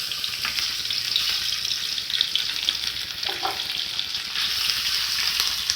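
Carne do sol, sun-dried beef soaked in milk, frying in a pan with a loud, continuous close sizzle and crackle, plus a faint stirring scrape partway through.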